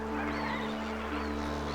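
Lesser flamingos on a lake, honking goose-like calls from a large flock over a constant low hum, dense and layered at moderate distance.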